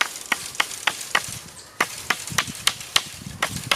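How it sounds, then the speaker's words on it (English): Repeated chopping blows strike around a wooden pole to score it before snapping it off while making a two-prong survival spear, about a dozen sharp, fairly evenly spaced knocks with a brief pause midway, close and clear with no talking. "scoring it a little bit by this chopping motion all the way around it"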